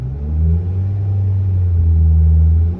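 A high-mileage Nissan Altima engine, its rough idle fixed, runs close and loud with a smooth, steady drone that swells slightly, with no stumble or hesitation.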